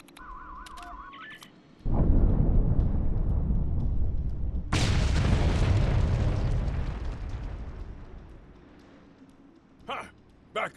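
A heavy detonation in Star Trek Online: after a few electronic beeps, a deep booming blast erupts, followed by a second bigger roar that rumbles and slowly fades, then brief short bursts near the end.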